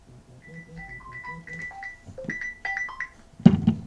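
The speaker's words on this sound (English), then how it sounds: "Phone is ringing." A phone ringtone plays a clear, repeating melodic tone pattern at moderate volume, followed by a louder thump and clatter at the end.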